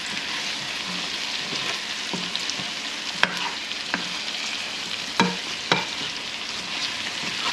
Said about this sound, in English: It's okay if you just kind of mix it all up there together.